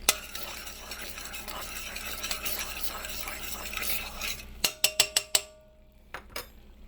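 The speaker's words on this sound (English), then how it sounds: "and then we go back and we stir again." A spoon stirs an herbal cold remedy simmering in a pot over a lowered flame, a continuous soft scraping and bubbling that gives way to several sharp metallic taps on the rim and then quiet.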